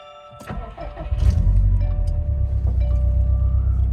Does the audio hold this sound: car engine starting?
yes